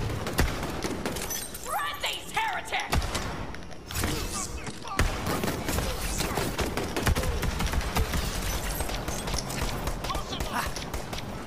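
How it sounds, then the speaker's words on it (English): A pistol-shotgun in Borderlands 3 fires several spread shots, with sharp blasts scattered through a busy, loud combat mix of impacts and clatter, and a voice talking underneath. "Yeah, pistol shotgun. See, look. Right here. See? Multiple shots."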